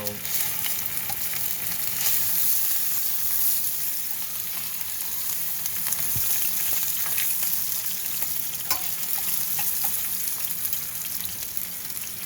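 Steak fries in a pan with a steady, close, continuous sizzle that crackles and spits lightly throughout, and no voices are heard.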